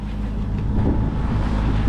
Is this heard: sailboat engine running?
yes